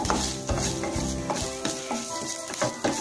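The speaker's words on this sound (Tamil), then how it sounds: "தேங்காவை இதோட போட்டு அதையும் நல்லா வதக்குவோம்" Grated coconut stirred and sautéed in a hot pan with golden-browned ridge gourd for a chutney, giving a steady close sizzle with repeated scraping stirs of a spoon against the pan, no voices.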